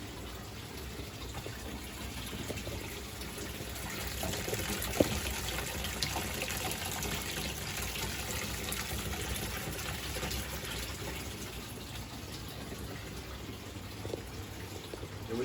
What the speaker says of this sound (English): we've got water flowing through that as well.